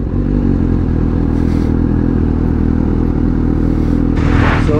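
A Husqvarna Svartpilen 401 motorcycle idles close by at a dealership, its engine a steady, loud low rumble with some rattling clatter on top, and a brief higher burst near the end.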